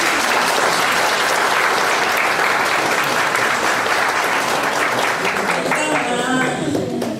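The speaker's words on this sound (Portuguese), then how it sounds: "vamos bater palmas" Audience applause at a conference in Sorocaba, Brazil, loud and sustained clapping from a large crowd filling the room, thinning slightly toward the end as a voice begins to talk over it.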